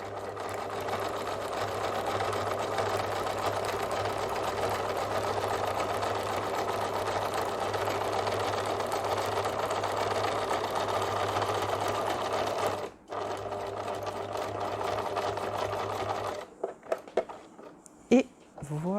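Sewing machine stitching bias binding on a beginner's pencil-pot pouch, a steady loud continuous motor whir with needle rhythm running about thirteen seconds, a brief pause, then a short resumption before stopping with small handling clicks.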